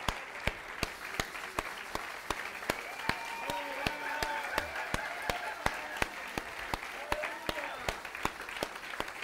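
A church congregation claps in a steady, even rhythm of sharp beats while voices sing or call out underneath, sounding full and sustained throughout.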